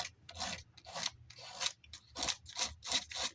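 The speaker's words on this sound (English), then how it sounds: "And then I'll take my sandpaper and," Sandpaper rubbed over a decoupaged journal cover in a crafting session, a series of close, crisp rasping strokes in an uneven back-and-forth rhythm, with no voices.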